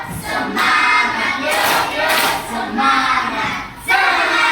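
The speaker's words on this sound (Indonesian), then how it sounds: "Kita tepuk semangat, ayo berdiri dulu." Classroom of sixth-grade children doing the rhythmic 'tepuk semangat' clap-and-chant, loud group clapping in bursts with shouted chanting voices, close and energetic throughout.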